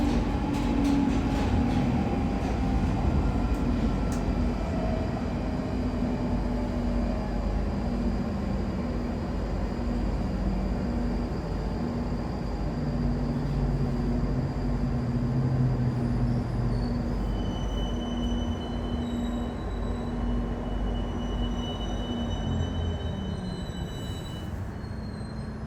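A London Underground Northern line train rides toward High Barnet near Totteridge and Whetstone, a loud, continuous rumble of wheels on track with rising and falling motor tones and faint high squeals, no voices.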